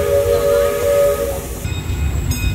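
The Disneyland Railroad steam train sounds its whistle in a steady, bright blast over a low chugging rumble, heard close and clear with no talk.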